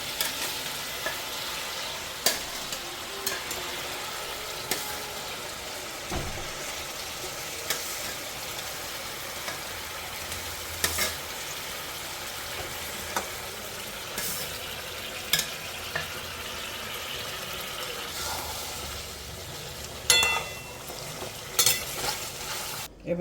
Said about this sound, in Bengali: এবার এটা কষিয়ে নেব একটু জল দেব ভেজে রাখা মাংসগুলো এবার একটা একটা করে দিয়ে দেবে